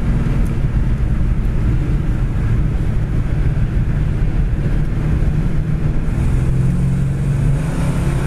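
A 1967 Dodge Coronet pulls hard as its automatic transmission kicks down into passing gear, a loud, steady low engine roar with wind rush from inside the moving car, no talk.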